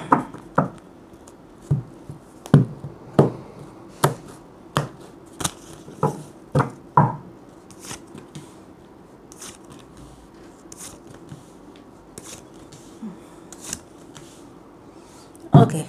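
Tarot cards are shuffled in a run of sharp, evenly spaced slaps and riffles. The bursts are close and distinct at first, then grow softer and sparser before a last loud snap.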